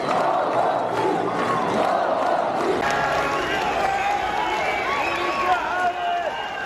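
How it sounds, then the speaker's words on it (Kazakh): Aktobe football club supporters in a stadium crowd chant in unison, a loud, continuous mass of voices with rhythmic shouting that swells and holds throughout. "Ақтөбе футбол клубының жанкүйерлері Куленко аут деп ұрандап жатыр."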